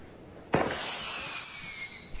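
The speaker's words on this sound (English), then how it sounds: "Is that a firework?" A single firework goes off with a sharp crack, then a high whistling screech that slowly falls in pitch and lasts about a second and a half.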